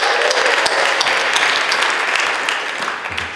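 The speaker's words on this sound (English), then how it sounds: "So let's give Hillary a big round of applause." Audience applause follows the welcome at a workshop marking twenty years since the 1999 WTO protests. The dense, even clapping from a room full of people gradually fades toward the end.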